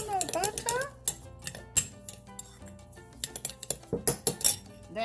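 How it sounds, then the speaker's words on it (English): Cabaret cracker crumbs and lemon zest being stirred together in a bowl, with a spoon clinking and scraping in irregular bursts close up, under faint background sounds. "I'm gonna add the zest to the cracker mixture and mix everything together till combined."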